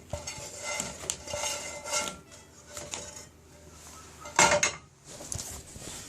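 Cooked dumplings scraped and shifted out of a frying pan into a collection pot, with close metallic clinks, utensil scrapes and a sharper clatter near the end amid faint kitchen background.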